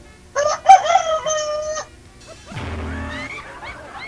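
A rooster crows loudly nearby in one long call, followed by softer clucking and another bird's calls.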